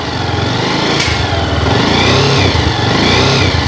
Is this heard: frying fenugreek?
no